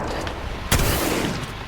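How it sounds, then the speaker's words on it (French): Gunfire from an enemy in an Apex Legends match cracks out as one sharp shot over a dense background of game noise, close and brief. "Ouais, bah y'en a un qui nous tire dessus."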